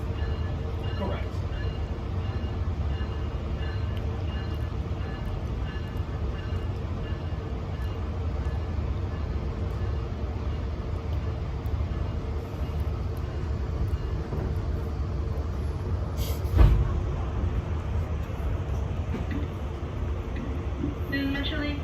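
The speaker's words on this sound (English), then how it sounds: "This is Metrolink 707, service to LA Union Station." A Metrolink commuter train bound for LA Union Station fills the clip with a steady, low rumble throughout, broken by one brief clank partway through.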